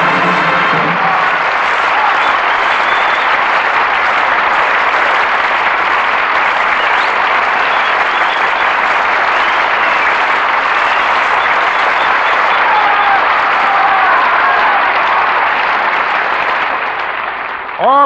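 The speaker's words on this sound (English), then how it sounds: "Keyes, William Demarest, and Ludwig Donath, who returned to the footlights in response to your applause" Sustained, loud applause from a live studio audience at a 1940s Lux Radio Theater broadcast of The Jolson Story, a dense steady clapping wash lasting many seconds before fading out at the end.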